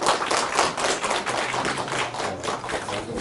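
An audience applauds steadily at a university admissions information session, a dense wash of many hands clapping at once, loud and continuous throughout.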